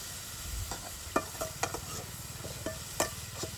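Dried fish sautéing in a pan, a soft continuous sizzle broken by a few sharp spoon clinks and scrapes against the metal, close but fairly quiet, with no voices.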